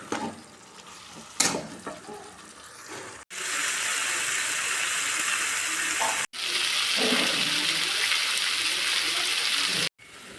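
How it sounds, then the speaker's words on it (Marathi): Water streams into a pan of eggplant curry seasoned with chutney masala and salt, a bright continuous splashing pour in several long bursts separated by abrupt breaks. "आता मी ह्याच्यात शिजण्यासाठी पाणी ओतलेलं आहे."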